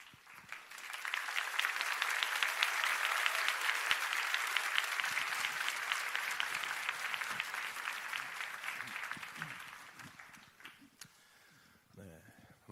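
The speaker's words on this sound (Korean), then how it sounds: "박수 부탁드립니다" A church audience at a Korean Christian gathering bursts into loud, sustained applause as the pastor steps up, swelling quickly, holding for several seconds, then thinning out and fading into quiet room noise.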